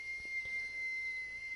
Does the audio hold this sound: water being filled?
no